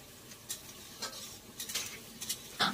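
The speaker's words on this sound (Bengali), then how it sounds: "ননদ দেখো মাংসর জন্য পেঁয়াজ ভাজতে শুরু করে দিয়েছে" Onions frying in a pan for a meat curry, giving a soft sizzle with several brief stirring scrapes spread through the moment, fairly quiet and close.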